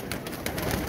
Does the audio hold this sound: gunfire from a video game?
no